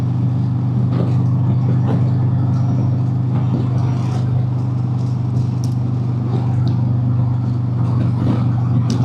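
A car driving home from work gives a steady, loud low engine and road hum inside the cabin, with faint clicks and rattles over it.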